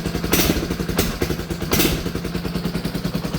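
Cold quad bike engine idling with a lumpy, rhythmic putter, blipped three times into short revs, close and fairly loud with no talking.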